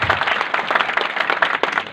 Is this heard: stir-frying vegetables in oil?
no